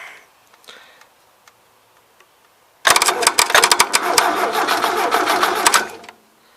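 A 1977 Gravely GMT 900 tractor engine cranking over: the starter spins with a fast, rhythmic mechanical chatter for about three seconds after quiet rustling, then stops abruptly without catching.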